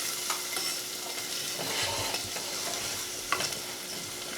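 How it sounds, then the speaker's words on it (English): Sucrin Gold sweetener is stirred in a hot pan, giving a steady sizzle and fry hiss with occasional scrapes and clicks from the utensil, close up and with no voices. "And I'm just going to stir that around."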